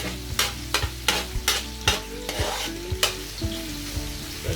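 Garlic and ginger sauté in a pan, a spatula scraping and knocking in a quick uneven rhythm over a soft steady sizzle, close and clear with no talking.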